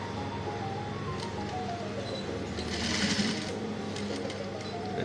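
A sewing machine stitches a senator pocket on fabric, its rapid mechanical whir running continuously and close up, with no talk over it.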